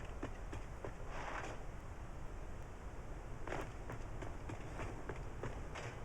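A train in the video game Satisfactory, hauling packaged crude oil, runs with a faint, steady rumble and wind-like hiss, broken by regular light clicks of wheels over track joints, with no voices.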